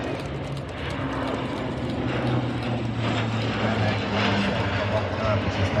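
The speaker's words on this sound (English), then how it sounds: "aircraft is now doing 250 knots at 250 feet AGL." A fixed-wing aircraft at an air show passes low at about 250 knots and 250 feet, a steady, fairly distant engine drone with the crowd murmuring underneath.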